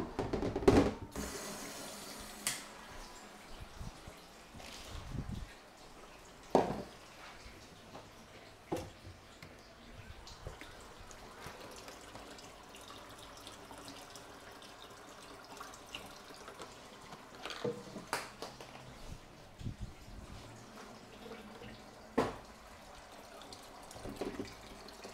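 Water from a tap runs quietly into a big plastic trough container while workspace is set up for cyanotype printing, a faint steady trickle with occasional louder knocks and clunks, no talking.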